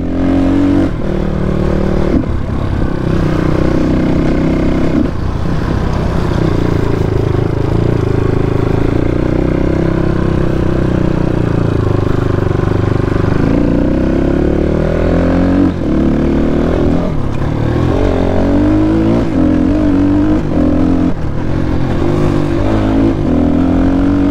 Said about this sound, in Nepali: बाइकको टेस्ट राइड हुँदैछ हल्का फुल्का